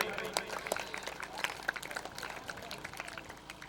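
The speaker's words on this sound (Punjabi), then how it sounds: "ਤਾੜੀਆਂ ਮਾਰੋ ਰੇਡਰ ਲਈ" A crowd at an outdoor kabaddi tournament in Arifwala claps for a raider, producing scattered, uneven applause. A loud announcer's voice carries over it through a PA system.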